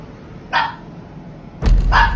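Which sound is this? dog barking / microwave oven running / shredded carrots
dog barking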